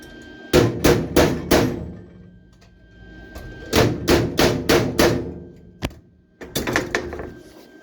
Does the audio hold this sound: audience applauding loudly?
no